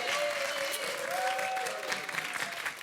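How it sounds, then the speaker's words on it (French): Studio audience on a French television dating game show giving a few claps, a soft, steady patter of applause heard at a distance and fairly faint, with a thin tonal line running through it. "quelques applaudissements, c'était laborieux"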